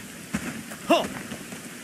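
Rain falls steadily in the medieval village-building game Bellwright, a soft continuous patter with a couple of brief louder knocks and tonal blips from game activity layered over it.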